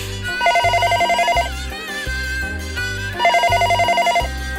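A telephone rings loudly in two bursts of rapid electronic trilling, with a short pause between them, over a low musical bed in a Korean radio drama.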